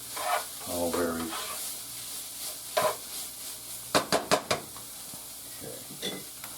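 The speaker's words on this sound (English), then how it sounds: "You want to mix all your seasonings up together in your meat" Beef and onions with seasonings fry and sizzle in a pan for beef stroganoff while a utensil stirs and scrapes, with a quick burst of clinks against the pan midway and a voice briefly heard near the start.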